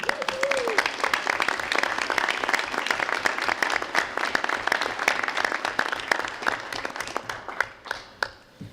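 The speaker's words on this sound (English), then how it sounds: "a round of applause for Chuck," A university audience applauds at a State of the University address, dense sustained clapping that thins into scattered claps and fades out near the end.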